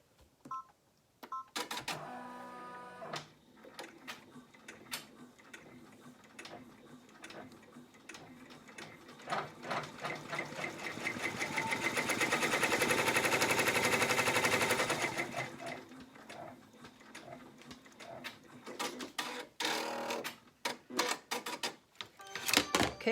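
An embroidery machine sews a placement stitch for the side pieces of an in-the-hoop zippered wallet. Its rapid, even mechanical ticking runs continuously and swells louder midway, with no talking.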